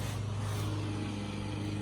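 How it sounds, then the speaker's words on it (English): A lawnmower drones steadily in the background outdoors, a low constant engine hum with no change across the short stretch. "excuse the lawnmower back there"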